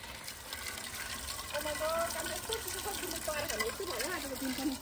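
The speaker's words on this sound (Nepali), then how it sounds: "अहिले अब माथि छानाको हिउँ पग्लेर एकदम" Meltwater from snow on a house roof runs off steadily in winter, a continuous close trickle and splash of falling water, with a person talking over it throughout.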